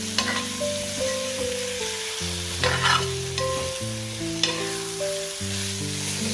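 Chicken pieces for biryani are stirred with onion, ginger and garlic in a hot pan, a continuous sizzle with occasional scraping bursts under steady tonal background music.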